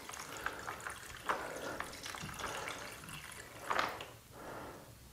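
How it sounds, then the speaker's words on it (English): Water poured into a computer cooling setup for sub-zero overclocking of an AMD Ryzen 2400G, giving quiet, close splashing and trickling with a few brighter splashes and gurgles. "Pouring water into a computer that's not even for sale yet at the time of filming"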